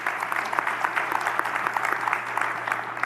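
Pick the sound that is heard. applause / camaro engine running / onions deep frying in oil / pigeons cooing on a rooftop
applause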